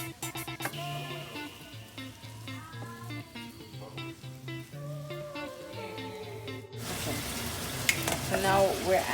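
Shrimp and mushrooms sautéing in a pan, a quiet sizzle under background music that gives way to a louder, crackling fry with occasional stirring near the end.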